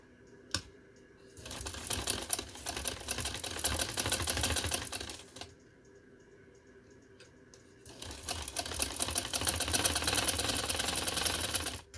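Sewing machine stitching glued lace along the folded edge of a V-neckline, running in two sustained bursts of rapid mechanical whirring separated by a short quiet pause.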